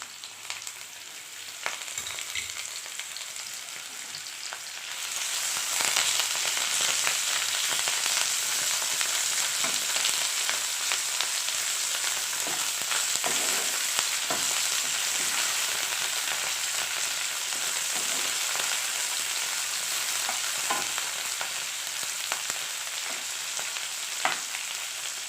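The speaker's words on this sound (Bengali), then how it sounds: "একটু ভাজা ভাজা হতে থাকুক।" Shrimp frying in a pan for a Bengali home-cooked dish. A loud, steady sizzle of hot oil starts abruptly after a few seconds of quieter crackle, then runs on continuously and close up, with no talking.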